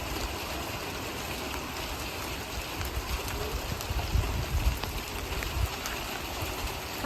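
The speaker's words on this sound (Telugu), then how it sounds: "మా వర్షం పడుతుంది" Steady rain falling outdoors, a continuous dense hiss of drops with no break, moderately loud and close, with no talking.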